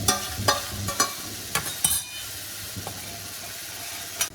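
Mushrooms sizzling in a hot pan while being stirred, a steady frying hiss broken by several scraping stirs of the spatula, close and alone with no talk.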